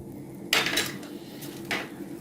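A spoon knocks and scrapes around a pot while a cinnamon stick and spices are stirred for Kashmiri chai, giving two clear clattering bursts over a low steady hum, close and with no voices.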